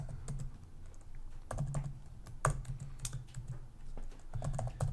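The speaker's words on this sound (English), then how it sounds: "I'm just going to type this in here." Steady typing on a computer keyboard while data is entered into a Zoho Creator form on a WordPress website: close, crisp key clicks in uneven bursts with a few louder strokes, no talking.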